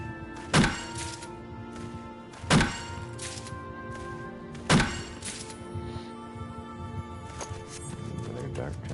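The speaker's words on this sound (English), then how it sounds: "let's grab some fire crystals." Gathering fire crystals in the video game Final Fantasy XIV: three distinct, fairly loud thunking hits spaced a second or two apart over a steady bed of game ambience.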